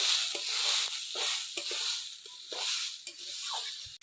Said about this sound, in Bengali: এবার সুন্দর করে একটু ভাজা ভাজা করবো।